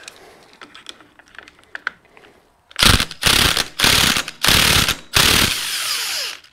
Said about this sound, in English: And then I'll grab my crescent wrench.